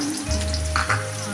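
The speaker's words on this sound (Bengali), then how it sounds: "এখন আমি পেঁয়াজগুলোকে হালকা করে ভেজে নেবো" Onions frying lightly in oil in a wok: a close, continuous sizzle with crackling bursts, steady throughout and unaccompanied by speech.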